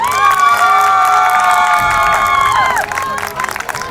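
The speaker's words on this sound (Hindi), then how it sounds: "ये तालियां बता रही हैं कि सबने समझा है" An audience cheers and claps after a recited poem at a stage program, with loud whoops and shouting voices that swell and then drop off sharply, leaving scattered applause.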